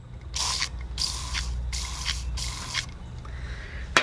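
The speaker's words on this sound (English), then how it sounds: "Back to the bug spray we go." Four bursts of aerosol bug spray hissing close up onto a fishing worm, each about half a second long and steadily spaced, over low background rumble.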